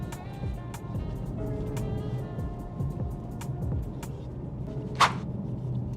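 A BMW M car engine pulls in fifth gear at around 2,000 rpm, giving a low, steady drone with road and cabin noise and a brief sharp click near the end.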